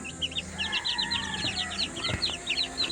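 Pullets and a rooster cluck in a rapid, chattering series close by, with a single louder squawk partway through and no talking.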